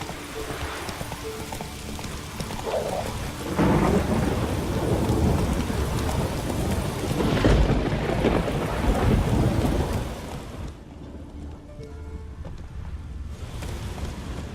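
Horse Roach ridden through a thunderstorm in The Witcher 3, hooves clip-clopping under steady heavy rain and rolling thunder, loud and continuous throughout.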